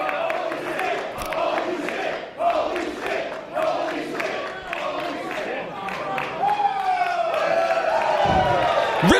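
A wrestling crowd at a Tier 1 Wrestling match between Matt Riddle and Pentagon Jr cheers and roars loudly and steadily, with excited commentary talking over the noise.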